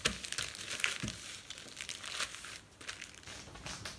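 Kouglof dough being wrapped in plastic wrap, a soft close crinkling and rustling of film that continues steadily and quietly with no talking.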